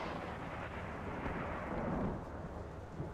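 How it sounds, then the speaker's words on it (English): A storm rolls over the sea in the submarine game Silent Hunter 3: dense, continuous thunder rumbles loud and broad for a few seconds, swelling slightly near the middle, with no voices. "Lots of storms, and there we have it"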